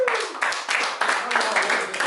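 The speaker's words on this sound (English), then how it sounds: "We're not clapping for Lamont." A group in an office sales training claps in loose, uneven bursts, fairly close and lively, while a voice cuts in at the start.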